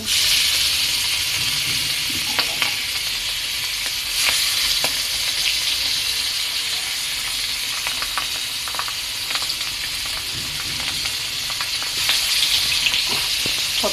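Fish pieces, pangas and hilsa tails and a nola fish head, fry in hot oil in a steady, loud hiss, with scattered spatters and stirring clicks throughout and no talk.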